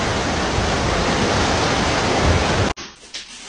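Steady rushing river water in Volgograd flows loudly for a few seconds, then cuts away abruptly to a quieter background.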